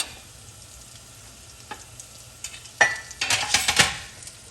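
Chopped onion drops into melted butter in a pan for beef stroganoff, starting with quiet ticks and then breaking into bursts of sizzling and scraping as it is stirred, close and fairly loud.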